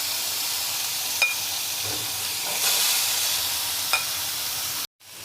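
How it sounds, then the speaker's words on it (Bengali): Eggplant pieces fry in two spoonfuls of hot oil in a kadai, hissing in a loud, steady sizzle with a few sharp clicks and light stirring before the sound cuts off abruptly. "তেলের মধ্যে আমি এখন বেগুনগুলো ছেড়ে দিচ্ছি"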